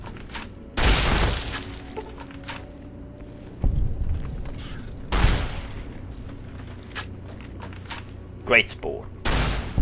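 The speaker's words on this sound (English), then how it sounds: "What were you shooting at, Eddie? You almost took my head off." Gunshots in Fallout New Vegas ring out as sharp isolated cracks, several loud single shots spaced seconds apart against quiet ambience, with a voice speaking briefly between them.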